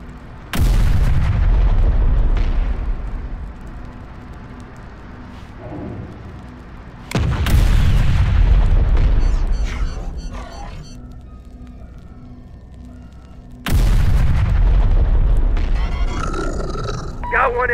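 Rockets fire in the Terminator Dark Fate Defiance game, three heavy booming blasts spaced several seconds apart, each with a long rumbling tail, while voices speak over the battle.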